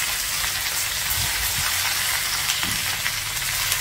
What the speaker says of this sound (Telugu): ఇప్పుడు ఇందులో ఈ ఆకుకూరని వేసేసుకుందాము